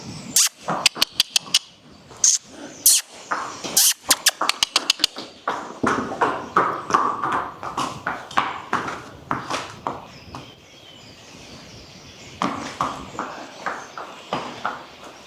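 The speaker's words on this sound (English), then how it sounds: "But he's trotting, so he's not gated." A horse at a shelter trots on a hard surface, with crisp, fairly close hoofbeats clip-clopping in quick rhythmic clusters, pausing briefly, then resuming with softer steps and background noise.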